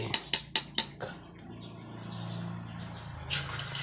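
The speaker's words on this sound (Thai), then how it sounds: "ทอดไข่" Eggs frying in a pan for a Thai omelet in a home kitchen: a quick run of sharp taps and knocks, then a steady soft sizzle that swells briefly near the end.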